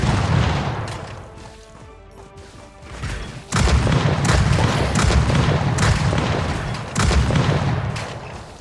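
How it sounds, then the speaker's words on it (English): Rocket explosions boom in a desert shooter game while unlocking a new weapon with gunship support and cluster grenades: a rumbling blast around 3.5 seconds, then a sustained roar of loud detonations and another heavy boom near 7 seconds. "Rocket go boom."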